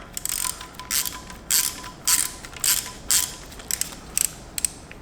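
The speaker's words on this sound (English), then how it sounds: "as I start tightening this bolt here for the tensioner, it will start to reduce that slack" Ratchet clicking in short, repeated bursts while tightening the timing chain tensioner bolt on an SR20DET engine, each quick pawl rattle close and distinct with brief pauses between.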